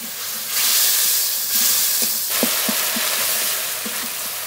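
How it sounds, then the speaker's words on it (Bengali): Ground spice paste with salt, turmeric and a splash of water fries in a pan, giving a close, loud sizzle and hiss with a quick run of rhythmic stirring scrapes near the end. "পরিমাণ মতো হলুদ গুঁড়ো, একটু জল দিয়ে মশলা খুব ভালো করে কষিয়ে নেব"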